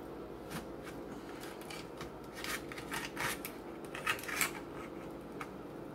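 A knife cuts and scrapes through a blueberry lemon cream pie, giving soft crunching, rasping strokes that rise in short bursts over a steady background hum, close and fairly quiet.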